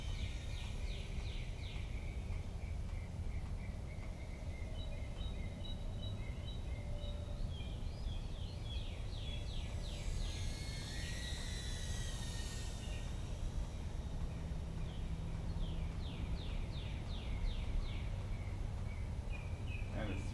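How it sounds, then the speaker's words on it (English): Birds sing outdoors in spring, repeated chirping trills that are faint and fairly distant over a steady background hiss. "You hear the birds."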